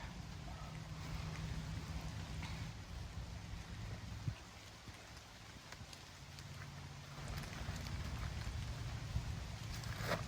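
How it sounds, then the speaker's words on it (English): Soft, steady patter of light rain outdoors on a hiking trail near Rockfish Gap, with a low rumble underneath and occasional louder drips, no voices. "We got a light rain"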